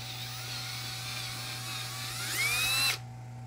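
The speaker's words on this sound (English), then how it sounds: "Drilling a hole sideways is pretty difficult." A power drill whirs steadily while drilling a hole sideways, then its pitch rises as it bites in and strains before cutting off abruptly.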